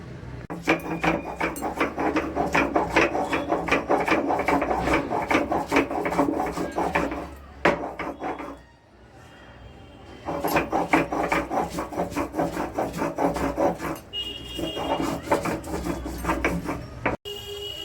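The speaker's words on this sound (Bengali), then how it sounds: "একটু আদা, কাঁচা রসুন আর কাঁচা লঙ্কা দিয়ে আমি বেটে নেব" Soaked masoor lentils and Gobindobhog rice are ground with ginger, raw garlic and green chili, a loud rhythmic rasping and scraping that runs in long stretches with a short pause in the middle.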